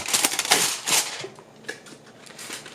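Aluminum foil being torn off a roll as a short strip for lining a dish, a close crinkly ripping with a few sharp bursts in the first second, then lighter rustles and crackles.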